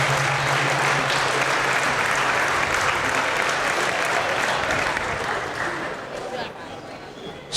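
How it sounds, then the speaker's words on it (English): Loud, sustained audience applause for a Hall of Fame inductee at a Lorain County boys' senior all-star basketball game, steady for several seconds and then tapering off near the end, with a low tone and crowd noise beneath. "How about a big round of applause for Steve?"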